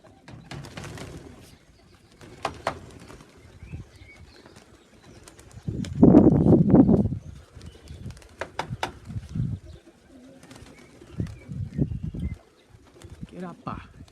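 Young pigeons coo low and throaty in a loft, one burst standing out in the middle over a murmur of soft bird sounds and wing shuffles, while someone talks now and then nearby.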